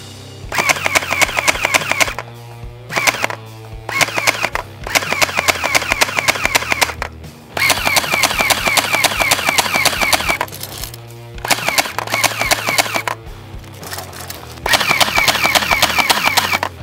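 A P90 gel ball blaster firing in long full-auto bursts, a loud, fast, rattling mechanical chatter that starts and stops repeatedly in strings of about one to three seconds.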